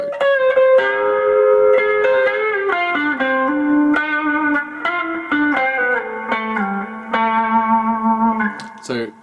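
Electric guitar with its pickup switched to humbucking mode, played as a loud, sustained melodic line of bending, overlapping notes with effects-unit colouring, reverb and slight distortion, filling the whole stretch with no talking.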